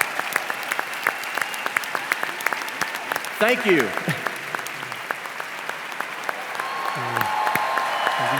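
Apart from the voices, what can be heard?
convention audience applause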